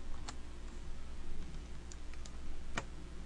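A few sparse, faint keystrokes and clicks on a computer keyboard, light taps at irregular intervals over a low steady hum.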